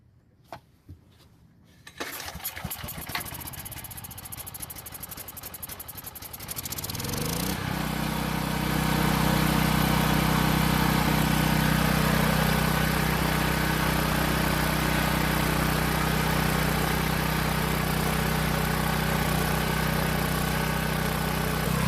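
A Powermate generator engine, fitted with a test carburetor and no air box, cranks with a few rough pulls, catches, then settles into a loud, steady running drone that holds to the end.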